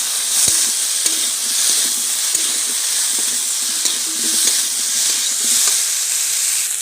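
Fried prawns tipped into a hot pan for a village-style chingri curry with stems and lentil badi, giving a loud, steady sizzle with intermittent scraping and light knocks of stirring.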